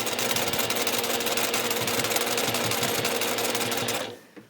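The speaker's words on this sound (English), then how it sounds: "And then I'm going to go ahead and keep stitching." A sewing machine runs steadily as it stitches a fabric pillow, with a loud, continuous, rapid mechanical whir close up that stops abruptly near the end.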